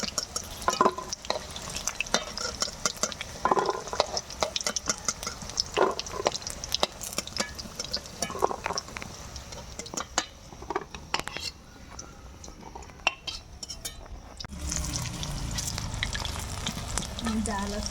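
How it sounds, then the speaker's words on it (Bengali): Chicken pakoras deep frying in hot oil, a steady crackling sizzle with frequent sharp pops, overlaid by stirring and clattering kitchen noises and a louder bubbling surge toward the end. "পকোড়া লাল লাল করে ভাজা হয়ে গেছে, এবার পকোড়াগুলো তুলে নেব।"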